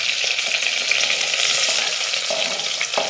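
Onions frying in hot coconut oil with fenugreek and curry leaves, a steady, loud, close crackling sizzle with faint clicks of stirring, no voices.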